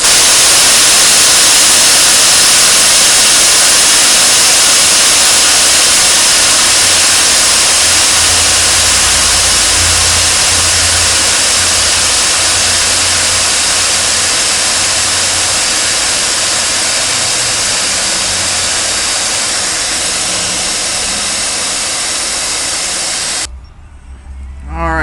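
Air brakes on an International S-1700 truck bleed down in a long, loud, steady hiss of escaping air that runs close-up for over twenty seconds before cutting off abruptly.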